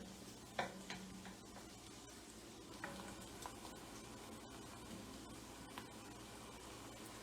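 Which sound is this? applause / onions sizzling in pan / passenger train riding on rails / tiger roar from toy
onions sizzling in pan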